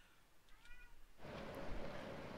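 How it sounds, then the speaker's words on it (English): A cat gives a short, plaintive meow from nearby, and a louder rush of broadband noise follows. No one talks. "I think your cat is upset."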